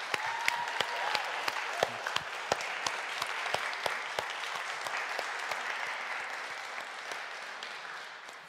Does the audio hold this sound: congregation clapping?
yes